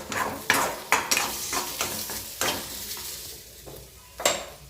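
Potatoes frying in a pan are stirred repeatedly, producing a low sizzle broken by several sharp scraping strokes of a spoon against the pan at uneven intervals, up close with no voices.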